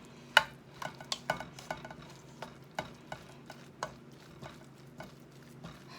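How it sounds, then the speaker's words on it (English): Crockpot lasagna ingredients are mixed by hand with a utensil, giving a series of soft, irregular scrapes and clicks close by in a quiet room. "And now I'm gonna mix it. So I'm gonna mix this, mix it."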